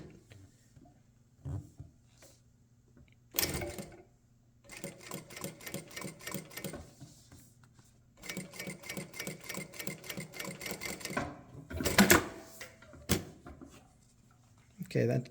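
A Jack A5E-A industrial sewing machine stitches fabric in several short rapid bursts with reinforcement stitching, close and crisp with gaps of quiet between runs, and a person speaks briefly between them.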